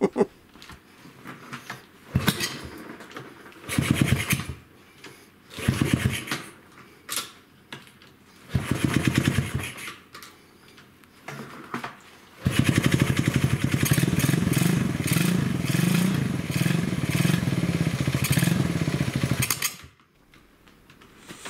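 A small 125cc single-cylinder motorcycle being kick-started, several separate bursts of cranking and sputtering before the engine catches and runs loud and steady for several seconds, then cuts out.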